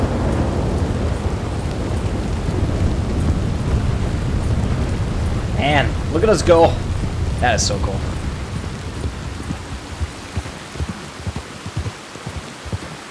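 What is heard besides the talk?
thunderstorm and rain in video game Red Dead Redemption II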